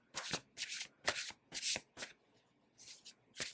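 A tarot card deck is shuffled up close in a series of crisp, papery riffling bursts, each about half a second, separated by short pauses, with no voices.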